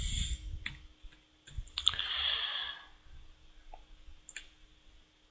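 Computer mouse clicking at a desk: a few sharp, quiet clicks spaced irregularly over a few seconds, close and isolated, with faint background hiss and a soft breath-like noise in the middle.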